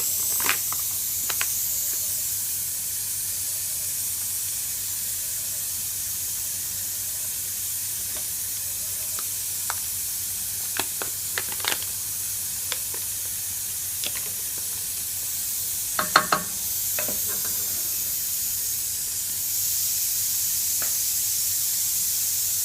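Butter dropped into a hot pot while cooking Iraqi yellow stew, giving a steady faint sizzle and hiss with a few brief crackles and pops, heard alone without talk.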